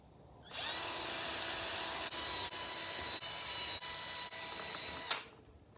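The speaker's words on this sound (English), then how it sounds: "now I'm just gonna take the drill and drill the holes from one side skirt to the other" A power drill runs at high speed for about four and a half seconds, whining steadily with a few brief dips as it bites through car side skirts.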